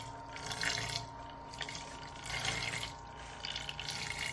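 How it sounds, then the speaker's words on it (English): A homemade magnetic stir plate driven by a 12 volt motor stirs water, a soft continuous liquid swirl with faint trickling and a low steady motor hum, waxing and waning slightly, with no talking. "And that is actually stirring the water."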